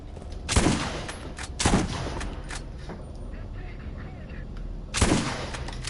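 Shotgun blasts in the Borderlands game, three sharp, loud shots spaced unevenly with a gap before the last, over a steady background hum.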